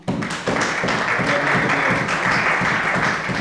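Church congregation applauding and acclaiming during a service, a dense, continuous wash of many hands clapping close and loud, with voices mixed in beneath the clapping.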